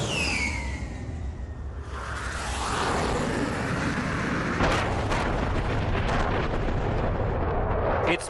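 An air-launched Rudram anti-radiation missile strikes an enemy radar: a whooshing approach gives way to a loud, sustained blast roar with crackling debris, lasting several seconds.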